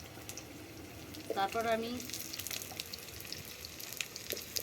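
Pumpkin and potato fry in oil in a wok with a quiet, steady crackling sizzle that runs the whole time, briefly under a short spoken phrase.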